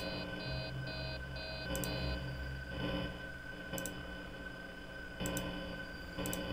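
Alarm sounding in the video game Five Nights at Freddy's 3, a steady beeping with repeated clicking pulses over a constant electronic hum, moderately loud and alone without talk.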